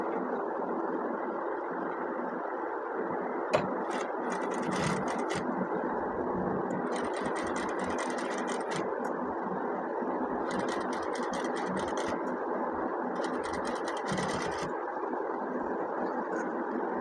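A sewing machine stitching a Peter Pan collar for a children's garment, running in a steady close whir with several bursts of rapid needle clatter separated by brief pauses.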